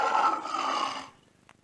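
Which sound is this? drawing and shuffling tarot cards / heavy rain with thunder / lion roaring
lion roaring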